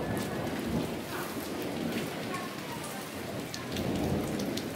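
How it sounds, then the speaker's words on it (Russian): Steady rain pours down during a May thunderstorm on Crete, a dense continuous hiss of drops on surfaces, fairly loud and even throughout with no voices. "Дождит опять."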